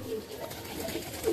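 Golden pigeons coo softly inside a cage, low murmuring calls spread through a short stretch over a steady background hum.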